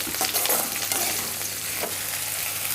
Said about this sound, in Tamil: வெங்காயம் வதங்கியாச்சு. சிக்கன் போட்டுடலாம்.